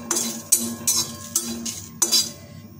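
A spatula stirring whole cumin, bay leaf and dried chilli in a hot kadai, tempered dry without oil: about five sharp metallic clinks and scrapes at an uneven rhythm, close and clear over a faint background hum.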